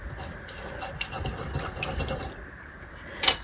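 Water poured into a container during a painting session, a soft trickling and filling sound with small drips, moderate and close, ending in a brief clink.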